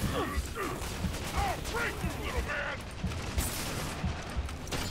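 Gunfire in the Spiderman: The City Never Sleeps video game, a scattered run of sharp shots and bursts mixed with mechanical game effects, steady and fairly loud across the clip with speech-like sounds woven through.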